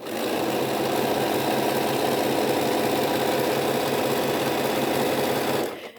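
Home sewing machine running steadily while stitching the bottom edge of a boho heart quilt, a loud continuous motor whir with a fast needle buzz that holds for nearly six seconds, then stops abruptly.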